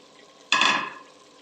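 Cubed potatoes tipped into spinach frying in oil in a pan, a sudden loud sizzling burst that settles into a quieter hiss within half a second, close up, with no voices.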